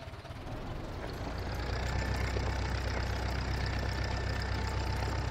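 A low, steady tractor engine drone in Farming Simulator 19 builds and holds, a mid-pitched mechanical rumble with a faint whine, no voices.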